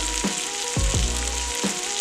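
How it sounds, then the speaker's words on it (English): Potatoes boil in a pot on the stove with a steady bubbling hiss, broken by a few low, dull knocks close by. "Now I'm going to check my boiling potatoes."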